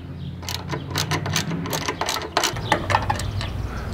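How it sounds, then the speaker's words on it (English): Tool work on a motorcycle windshield's four mounting bolts, with close, repeated sharp mechanical clicks and ratcheting bursts in an uneven rhythm over a low background rumble, no talking. "I'm going to take off the 4 bolts here"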